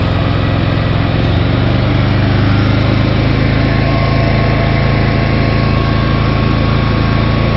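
A GENERGY inverter generator runs at maximum speed, its small engine giving a loud, steady, high-pitched drone at close range with no break throughout.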